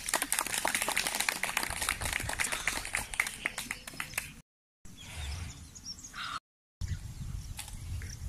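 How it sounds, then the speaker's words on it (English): A crowd claps in dense, sustained applause at a horse riding range that fades after a few seconds, followed by quieter outdoor ambience with brief gaps. "with a round of applause"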